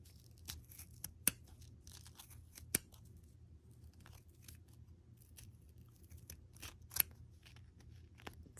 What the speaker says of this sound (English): you get your scissors right in that ridge, and you start snipping